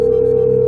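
On the game show Kaun Banega Crorepati, a steady electronic video-call ringing tone sounds loud and unbroken. It is a single sustained pitch with no voices over it.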